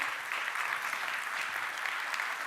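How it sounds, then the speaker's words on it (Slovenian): An audience at a closing ceremony applauds a doctor receiving an award, steady dense clapping that stays even and sustained throughout, with no voices over it. "Lahko ga nagradimo z aplavzom, kar izvolite."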